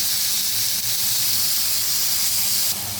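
Ivy gourd pieces sizzle in hot oil with tempering and curry leaves, a steady loud hiss that runs continuously and close, with no talking.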